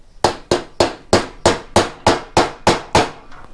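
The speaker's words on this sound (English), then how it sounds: "we're going to have to use a big hammer, because it's right here, and just not use the full force of it" A big hammer strikes during a bearing replacement on a Makita DPC7311 power cutter, giving nine evenly spaced, sharp metallic blows about a third of a second apart, each ringing briefly. The blows are close and loud, with no voices.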